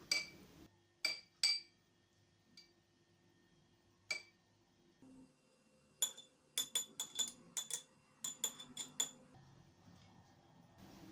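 Spoonfuls of soaked sabja seeds go into a falooda glass, with sharp close clinks of spoon against glass, a few spaced taps followed by a quick rapid series of tinkling knocks.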